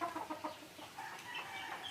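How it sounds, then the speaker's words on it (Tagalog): Chickens cluck repeatedly at close range, a busy, uneven run of short calls with no talking over them. "May manok pala doon."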